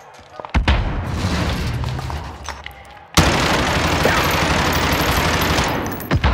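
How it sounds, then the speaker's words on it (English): Call of Duty: Modern Warfare gunfire aimed at a training dummy: a sharp shot, then a dense, loud burst of automatic fire that rattles continuously for several seconds and ends with a final crack. "Oh, shooting at the fucking dummy"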